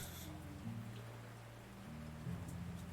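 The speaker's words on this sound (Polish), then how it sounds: "Pada deszcz." Steady, faint rain hiss from the video game Gods of Sand fills the scene evenly, beneath soft sustained in-game music tones.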